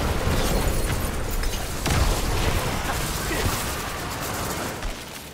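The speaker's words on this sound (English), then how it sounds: "That was the explosion from the deck." A Diablo 4 game explosion in a dense, sustained roar of blasts and crackling bursts that stays loud throughout, with game noise layered on top.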